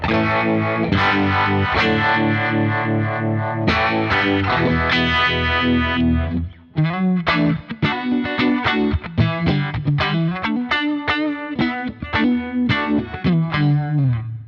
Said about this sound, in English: A vibe sounds friggin' dope.